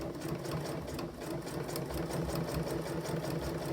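A Janome S9 sewing machine stitches through three layers of cork, a steady close mechanical whir with a rapid rhythmic needle chatter running continuously throughout.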